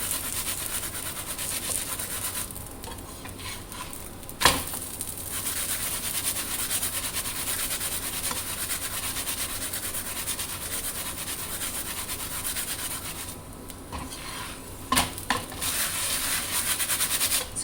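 An aloo paratha, a wholewheat flatbread stuffed with spiced potatoes, cooking in ghee on a pan, giving a steady close sizzle and scraping rub, with a couple of sharp knocks partway through and no talking.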